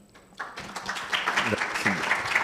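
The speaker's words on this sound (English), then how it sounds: "Ladies and gentlemen, please take a round of applause." An audience applauding after a presentation at a conference: a scattered patter of clapping that swells into steady applause, with a voice speaking over it at the start.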